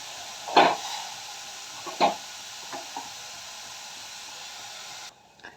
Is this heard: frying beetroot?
yes